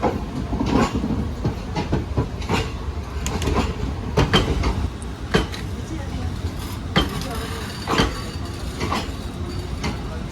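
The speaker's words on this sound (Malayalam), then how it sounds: "കൊച്ചുവേളി മുതൽ കോയമ്പത്തൂർ വരെ train number 12512 Raptisagar super fast എക്സ്പ്രസിലുള്ള നമ്മുടെ ട്രെയിൻ ജേർണി ദേ ഇവിടെ ആരംഭിച്ചിട്ടുണ്ട്" The Raptisagar Superfast Express rumbles along the rails from inside a coach, steady loud running noise with repeated rhythmic clacks and thumps from the wheels at track joints.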